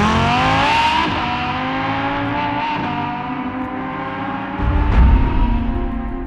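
A Lamborghini Huracan Evo's naturally aspirated 5.2-litre V10 accelerates hard, a loud, close, rising high-pitched engine wail held steady, with a brief surge of rougher low roar near the end and no talking.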